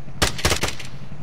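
Gunshots in a video game: two or three sharp, loud reports fire in quick succession close by, then fade into a ringing tail.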